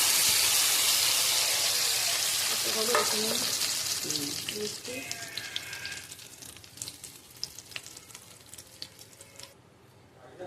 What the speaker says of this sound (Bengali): এবারে কি তেলটা গরম হয়ে গেছে, এবারে আমি ডাল বাটাটা দিয়ে দিলাম